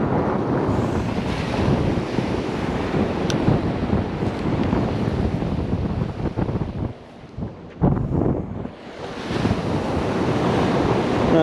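Wind gusts and ocean surf on a cold beach during winter surf fishing, a steady loud roar of breaking waves and wind buffeting the microphone throughout, with a brief lull near the end before the roar returns.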